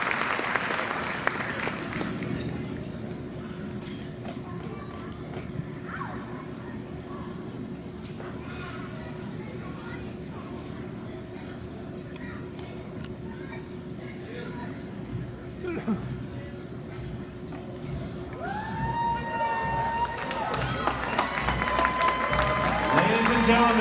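Sustained audience applause at a school district arts festival, steady clapping throughout with a low drone underneath and brief tonal sounds rising near the end.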